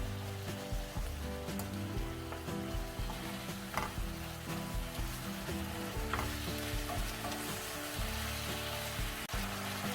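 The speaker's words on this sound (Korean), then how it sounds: "매실에 생강청도 넣어서 볶아줍니다." Spicy pork stir-fried over medium-high heat with plum and ginger syrup sizzles steadily and loudly, with frequent scraping and clattering from the stirring spatula and no voices.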